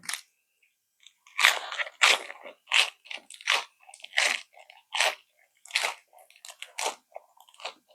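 Crunchy bites into crispy grilled pork ear, a run of close, sharp crackling chews repeating rhythmically alongside a spicy crab and fermented fish papaya salad, with no talking.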